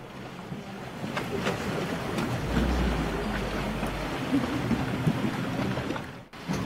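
A motor boat in Costa Rica drones steadily beneath wind and splashing water, with the engine rumble swelling briefly partway through.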